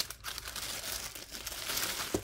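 Plastic packaging of a diamond painting kit crinkling and rustling during unboxing, close and continuous with irregular crackles and a sharper snap near the end.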